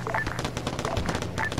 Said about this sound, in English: Now they're firing back and forth.